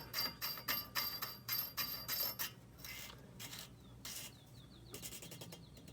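Threaded adjuster collar on a Raceland coilover for a 2016 Honda Civic being spun down by hand, giving a close metallic ratcheting rasp in quick repeated bursts, then quieter scraping and clicks.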